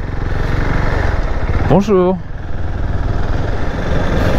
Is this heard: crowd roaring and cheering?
no